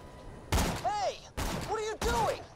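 Three sharp gunshot blasts from Borderlands 2 ring out close and loud, each trailed by a sweeping electronic tone, spaced roughly half a second apart.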